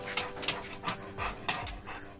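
A dog pants hard at close range after a bout of barking. The quick, breathy huffs come in a steady repeating rhythm with a few faint whimpers mixed in, and nobody talks.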